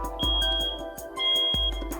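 A Videofied smoke detector gives two short electronic beeps about a second apart as its CR123A battery is being changed, with soft handling knocks and thumps in between.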